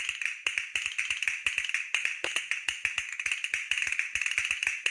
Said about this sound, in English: Castanets.